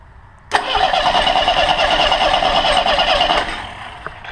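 A monster trike engine cranks and catches after a carburetor rebuild, roaring for about three seconds before dropping back to a quieter running note, loud and close.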